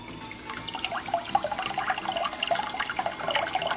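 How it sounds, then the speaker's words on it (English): A Joule sous vide circulator starts up in a pot of water, sending a continuous light churning, bubbling swirl of water, quiet and close, with small splashy ripples throughout. "It starts circulating the water, and it's got a heating element in there that will heat my water to temperature."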